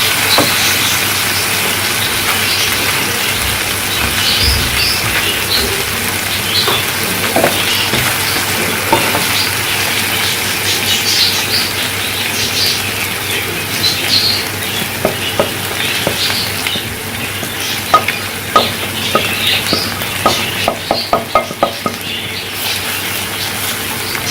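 Spices sautéing and being stirred in a pan for dahi baingan (yogurt eggplant): a steady close sizzle and hiss with scattered clicks and scrapes of a spoon, growing busier near the end, with no talking.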